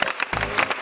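Audience claps in a college hall in Thodupuzha, a short burst of close, dense applause lasting under a second.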